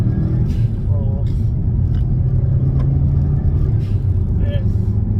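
A Subaru Impreza WRX STI accelerating on a quiet road, heard from inside as a loud, steady low engine rumble with slight shifts in tone, and someone talking over it.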